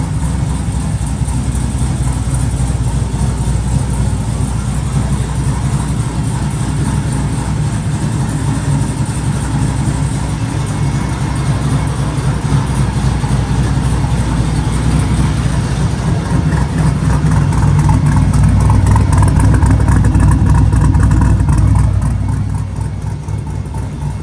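Car engine with a newly installed intake idling close by, a steady loud low rumble that swells briefly near the end before settling back.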